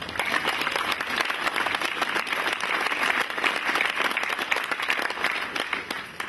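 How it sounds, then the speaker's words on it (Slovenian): Sustained applause from an audience at a first-aid competition, a dense even patter of many hands clapping continuously at moderate volume throughout. "Tako da tudi njim en aplavz."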